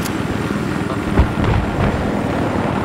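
Helicopter in the game Battlefield 3, a steady loud rotor drone with a rumbling low end, broken by one sharp thud and a few impact-like bursts, no speech.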